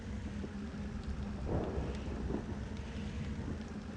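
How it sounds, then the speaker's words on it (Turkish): Steady rain in the Bus Simulator Ultimate game, a continuous broadband hiss with a low rumbling swell midway, heard alone without talk. "Yağmur da durmadı bu arada."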